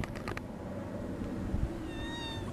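A cat gives a short, soft meow near the end, over a quiet background hum.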